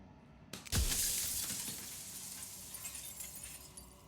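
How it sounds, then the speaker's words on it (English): Glass shattering in the video game Slay the Princess: one sudden loud crash with a deep thump, then bright tinkling shards that ring on and fade slowly, heard alone. "Broken glass."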